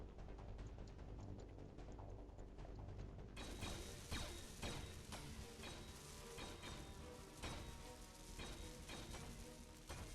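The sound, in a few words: welding steel plate in video game Space Engineers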